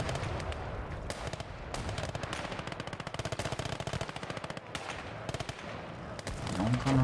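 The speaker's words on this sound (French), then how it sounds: "Oh les bruits d'artillerie!" Dense artillery, mortar and automatic gunfire from the World War II game Gate of Hell: Ostfront, a continuous barrage of rapid cracks and booming blasts filling the whole stretch, loud and close with no pauses.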